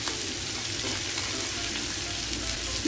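Fried lontong with vegetables being stir-fried in a pan, a steady close sizzle with scraping stirs throughout, no voices.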